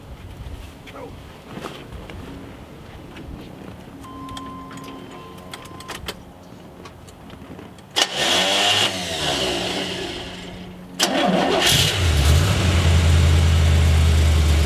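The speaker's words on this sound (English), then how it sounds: "you got to pump the gas Right. to get it to start." A Corvette with a 4-speed manual, which needs the gas pumped to start, cranks briefly, then catches and settles into a loud, steady rumbling idle close by.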